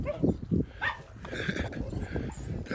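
A dog on a pig farm yelps and whimpers in a few short bursts near the start, followed by softer, muffled background sounds with faint voices.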